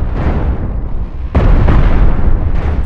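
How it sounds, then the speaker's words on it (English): Deck cannons fire in the space combat game Cosmoteer, heavy booming blasts over a dense rumbling roar, with a sharp burst midway and another near the end. "And two deck cannons,"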